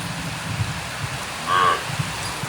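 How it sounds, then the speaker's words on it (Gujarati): Steady rain falling outdoors in hot weather, a soft continuous hiss with faint patter at moderate distance, a short brighter squeak partway through. "અને હવે આપણે પણ થોડી વાર વરસાદનો આનંદ માણીએ"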